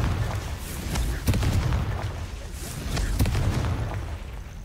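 Confringo fire spell blasts in Hogwarts Legacy, with a low rumbling roar and two soft booming bursts roughly two seconds apart, dense and fairly loud throughout.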